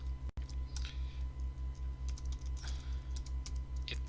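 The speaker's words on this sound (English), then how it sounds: "having trouble typing today" Quiet, steady keystrokes on a computer keyboard tap in an irregular stream of soft clicks, heard alone with a faint electrical hum beneath.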